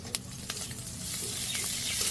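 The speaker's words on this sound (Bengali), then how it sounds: "পেঁয়াজগুলো ভাজি হয়ে গেছে হালকা, রসুন কুচিগুলো দিয়ে দিলাম" Chopped onion and garlic fry in a pan with a close, continuous sizzle that swells slightly, with a few sharp clicks and scrapes from stirring early on.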